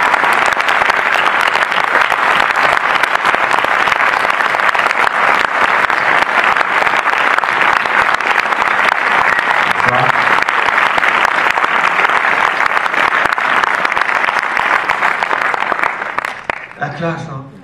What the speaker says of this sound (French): je vous demande de l'applaudir comme il se doit, Monsieur Gilles Lelouch.